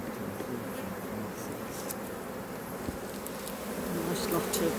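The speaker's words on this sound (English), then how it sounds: "They really are behaving beautifully, these bees." Honeybees hum in a dense, steady drone at a hive entrance, close and continuous, with no voices over the buzzing.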